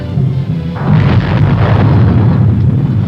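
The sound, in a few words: Nike Hercules missile being fired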